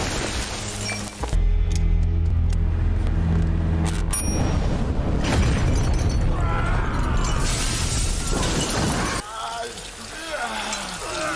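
A grenade explosion in the film Desperado: a loud, sustained blast with crackling, shattering debris and roaring noise that fills the clip, partly under a talking voice.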